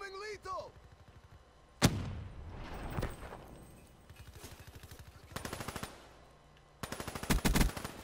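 Rapid automatic gunfire and single shots from a Black Ops 3 free-for-all online match, in sharp loud bursts broken by short pauses, with game music and effects underneath.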